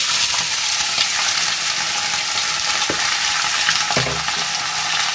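Chopped potatoes, about a kilo, tumble into hot oil with frying onion and cumin, giving a steady loud sizzle with a sharp burst of crackling as they land near the end.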